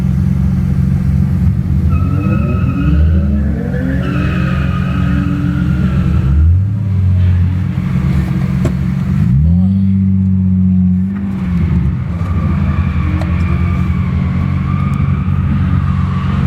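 A car drifting, its engine loud and close as it revs repeatedly, pitch sweeping up and falling back in several surges over a steady rumble.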